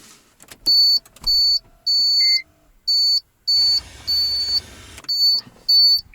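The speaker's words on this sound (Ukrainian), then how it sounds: "Так, газ у нас трошки пищить." Repeated electronic beeps from the LPG gas system of a Toyota Prius taxi, about eight evenly spaced high-pitched pulses in a row, loud and close, with a brief low rumble partway through and no talking.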